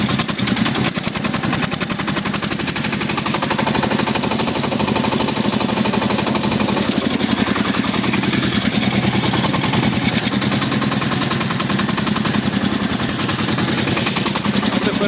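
A homemade motor cultivator clears a garden pumpkin bed with a loud, close, continuous rapid engine rattle. The fast put-put firing holds steady throughout, with no voices.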